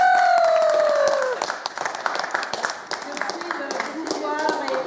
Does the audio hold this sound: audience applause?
yes